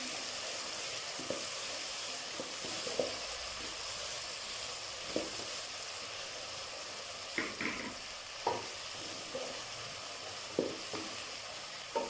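Steady sizzling of ginger, garlic and onion browning in a pan, with occasional clicks and scrapes of stirring, close and continuous without any talking.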